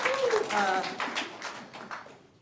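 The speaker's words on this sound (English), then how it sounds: "Can we just give Richard some snaps or claps?" Congregation snapping fingers and clapping for a church tech volunteer, a soft scattered patter of snaps and claps over a couple of seconds beneath a few spoken words.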